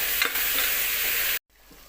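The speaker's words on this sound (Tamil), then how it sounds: "இப்போ தக்காளி போட்டுருவோம் ஒரு அஞ்சு தக்காளி பழம்" Tomatoes and onions sizzle loudly in a hot pan for mutton biryani, a dense steady frying hiss with a stir, then cutting off abruptly to a quieter background.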